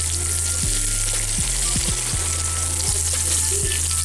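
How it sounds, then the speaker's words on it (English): Onions and shrimp sizzling in a stir fry pan, with a steady, loud, close frying hiss throughout and a low hum beneath. "I'm cooking the next batch of shrimp, so I'm just kind of dropping my onions down first."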